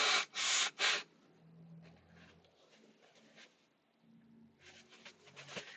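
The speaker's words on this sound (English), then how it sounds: "I'm just going to blow my nose" A person blows their nose close to the microphone: three loud, sharp honking bursts at the start, quieter rustling and sniffing in between, then another rough blowing burst near the end.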